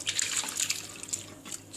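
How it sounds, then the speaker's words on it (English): Separated milk for rasmalai pouring through a cheesecloth, a steady close trickle and splash of liquid with no talk. "now we are going to immediately strain it"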